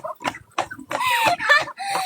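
A chicken clucks close by in short, loud bursts, a few quick clucks and then longer squawking calls over about two seconds, with no one talking.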